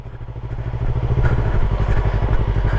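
Motorcycle engine chugging close by as a learner rider pulls away and stops using the clutch, a rhythmic low thumping that grows louder and steadier partway through.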